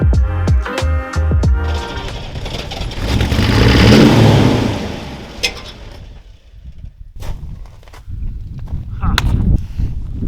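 A 1977 Range Rover diesel engine cranks with rapid rhythmic pulses, catches and revs up loudly, then settles with irregular clatter and knocks; a voice speaks briefly near the end.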